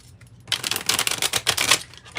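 A deck of tarot cards being shuffled up close: a dense run of quick papery riffling clicks that lasts under two seconds, with no talking.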